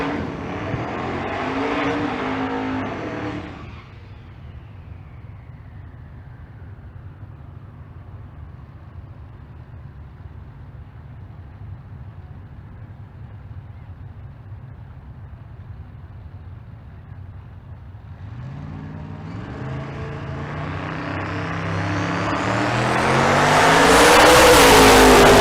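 Rob Lipinski's yellow twin-turbo LS gasser drag car at Bandimere, a loud engine that fades quickly into the distance, then a long quiet stretch before another engine roars up loud and near.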